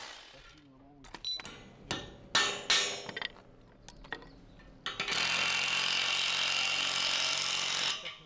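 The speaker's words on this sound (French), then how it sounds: "le producteur d'acier préfore déjà les trous de fixation dans le toit avec un forêt à béton" A masonry drill bores fixing holes into a steel roof: several sharp metallic knocks and taps come first, then a loud, steady drilling whine runs for about three seconds before stopping.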